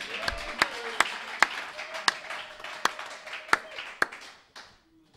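A church congregation claps in praise of Jesus, a series of sharp, evenly spaced claps roughly every half second at moderate distance, with a faint held tone and some room murmur underneath, tapering off near the end.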